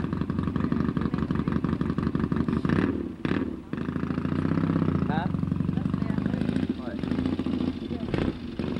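A Norton motorcycle engine running at a rally at Lake O' The Pines, a steady close mechanical thrum with rhythmic firing pulses, loud throughout, while people talk nearby.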